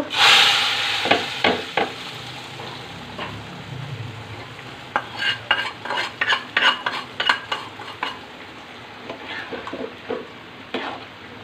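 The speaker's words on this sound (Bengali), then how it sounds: "এখন বাগা দিয়ে দিব।" Spice tempering (baghar) for bottle gourd dal sizzling in a pan, a steady hiss of frying under repeated sharp scraping and stirring strokes, with clinks of a spoon against the pot.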